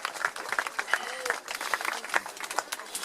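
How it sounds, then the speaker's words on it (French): An outdoor crowd at a Provençal horse blessing festival claps for riders, musicians and singers. The applause is lively and uneven, with distinct hand claps fairly close and voices mixed in. "on applaudit les cavaliers, les musiciens et les chanteurs"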